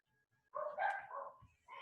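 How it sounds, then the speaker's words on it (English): Several dogs barking in the background at an indoor setting, a cluster of mid-pitched barks and yips arriving in bursts after a quiet start, moderately distant and with no talk over them. "excuse the dogs in the background"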